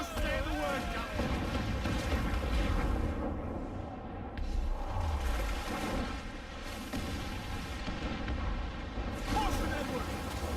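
Ship cannons boom repeatedly during a naval battle in Assassin's Creed 4 Black Flag, heavy dense blasts over a constant roar of sea and gunfire, with shouted crew voices throughout.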